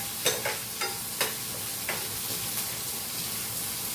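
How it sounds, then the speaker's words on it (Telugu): Onions fry over a low flame for a Telugu amaranth-leaf curry, a steady close sizzle with a few sharp clinks of a stirring spoon early on, then continuous crackle alone. "లో ఫ్లేమ్లో పెట్టి కొంచెం ఆనియన్ బాగా వేగాలి."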